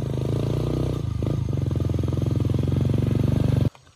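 A motorcycle engine runs loud and close on a gravel road, its steady droning rumble swelling briefly then holding before cutting off abruptly near the end.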